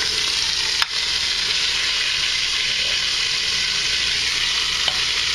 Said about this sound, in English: So I'll put in my crosscut hind shank. Listen to that sizzle.